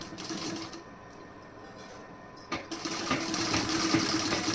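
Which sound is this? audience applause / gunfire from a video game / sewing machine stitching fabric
sewing machine stitching fabric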